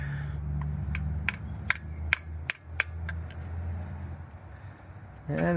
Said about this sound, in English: just hammering around